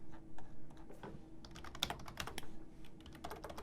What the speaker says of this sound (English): Now I'm typing fast because I'm getting excited